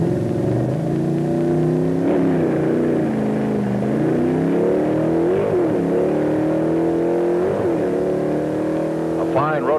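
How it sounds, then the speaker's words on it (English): A Hurst-equipped Oldsmobile super stock car drag races down a quarter-mile strip in the 1960s, its engine droning loudly and rising through gear changes, with someone talking over it. "A fine road racing driver, Dick handles his Hurst-equipped Olds super stock over the quarter mile like a veteran, turning in a 10-second performance"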